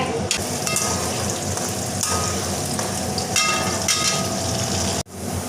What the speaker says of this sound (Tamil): வெங்காயம் வந்து நல்லா பொன்னிறமாக வறுபட்டு வந்துடுச்சு பாருங்க